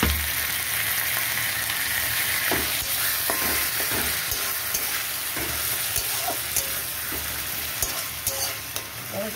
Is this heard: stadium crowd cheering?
no